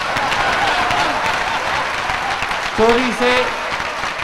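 A crowd at a Hindi comic poetry gathering (hasya kavi sammelan) gives continuous, dense applause, with a short burst of a voice rising above it near the end.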